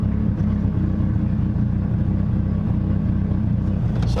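A Mitsubishi Evo X drives along while its brakes are bedded in, giving a steady loud engine drone with a continuous low rumble from inside the car and no breaks in it.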